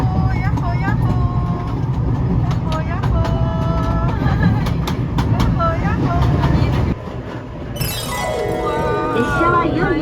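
Kurobe Gorge Railway train rolling through the autumn gorge in Toyama, a steady low rumble and rattle of the carriages running continuously beneath people chatting nearby, with a brief drop in the noise near the end.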